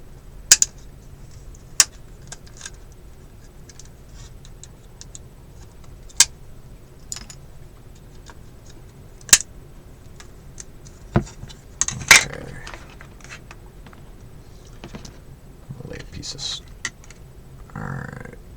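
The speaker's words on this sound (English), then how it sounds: "So I'm just going to take my side cutters here and cut a chunk of that out." Side cutters snipping a chunk out of a plastic model truck bed: several sharp isolated clicks and snaps spread across a quiet stretch, with some handling rustle near the end.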